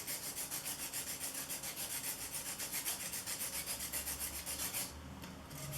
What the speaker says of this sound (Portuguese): Eu vou passando a lixa